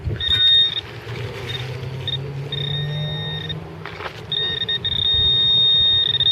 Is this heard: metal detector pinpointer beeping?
yes